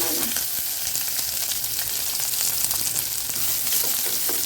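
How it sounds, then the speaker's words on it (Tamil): A large chopped onion, added after mustard seeds for a banana stem kootu, sautéing in a hot pan with a loud, steady sizzle and occasional stirring scrapes. "வெங்காயம் ஒரு வெங்காயம் அரிஞ்சு வச்சுருக்கேன் பெரிய"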